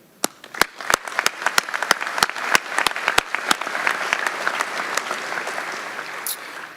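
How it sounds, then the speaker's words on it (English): A graduation audience at a sheriff's academy class ceremony with San Bernardino Valley College bursts into applause, sharp individual claps at first, then swelling into dense, sustained clapping from a large crowd. "we applaud you."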